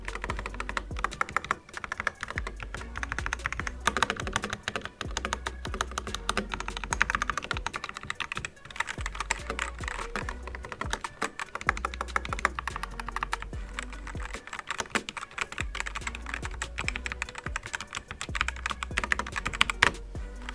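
Rapid, continuous clicking of keys being typed on a compact portable gaming keyboard, close up, with a dense, even rhythm and no voices.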